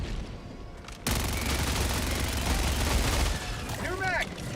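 Gunfire in Helldivers 2 as a full magazine is emptied: a long, dense, continuous stream of loud rapid shots lasting several seconds, ending with a few whistling, ringing effects.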